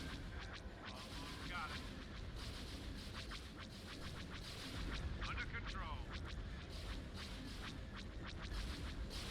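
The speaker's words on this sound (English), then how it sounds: "Oof, those turbo laser blasts." Turbolaser blasts from a Star Wars: Empire at War space battle fire in a rapid, continuous barrage of sharp zaps and rumbling explosions, loud and dense throughout under a constant battle din.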